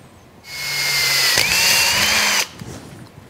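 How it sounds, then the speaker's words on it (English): A power drill bores through aluminum with a 9/64 inch bit, a steady high whine that holds loud and continuous for about two seconds before cutting off abruptly. "Using a 9/64 inch drill bit, I'm going to very carefully drill in the location that I had previously punched."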